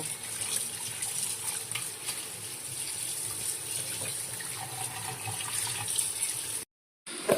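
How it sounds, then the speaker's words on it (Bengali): Chicken is washed under a running kitchen tap, a soft, steady stream of water that cuts off briefly near the end. "আমি চিকেনটাকে ভালো করে পরিষ্কার করে ধুয়ে নেবো"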